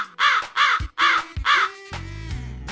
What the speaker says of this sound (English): Crows are one of the most intelligent birds.